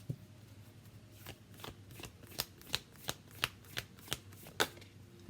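Tarot cards being shuffled close by in a quiet room, a run of about ten crisp riffling bursts coming at a steady pace, with no talking.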